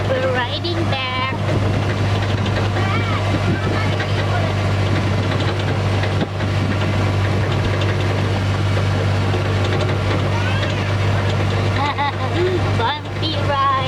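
A tractor pulls riders along a bumpy route at the Wooden Shoe Tulip Festival in 2025. Its engine makes a steady, close, low drone throughout, and voices chat faintly over it.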